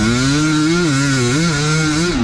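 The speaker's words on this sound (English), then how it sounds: "That two-stroke just sounds amazing." A two-stroke dirt bike engine revs hard during a motocross race, its loud, buzzy, close-up note wavering up and down continuously with no pause and no voices.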